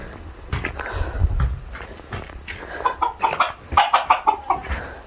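Native chickens cluck in quick bursts, close by, with a run of rhythmic clucks toward the end and faint shuffling between calls.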